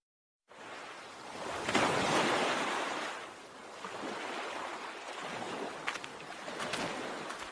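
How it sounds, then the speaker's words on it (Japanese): Sea waves at night wash in softly and steadily, rising into a fuller surge and then easing into a quieter ongoing rush, heard alone and fairly faint. "夜の海はどう？"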